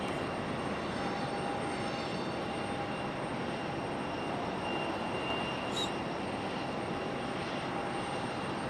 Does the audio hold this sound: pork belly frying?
no